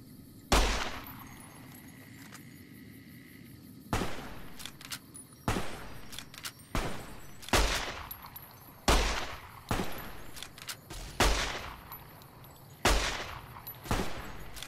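Gunfire in the video game Fallout: New Vegas: about ten sharp, loud shots fire in an irregular rhythm, some in quick pairs, each ringing out with a short echoing tail over faint background ambience.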